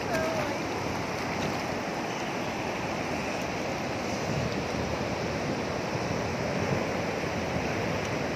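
Strong, rough surf at a baywalk beach washes in as a constant dense roar, close and unbroken throughout, with a faint voice briefly audible.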